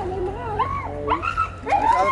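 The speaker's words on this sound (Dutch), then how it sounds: "Ja, leuk hond!" A dog at a muddy cross-country run gives a string of high, whining yips and short barks, near and fairly loud, in three quick bursts over a low background rumble.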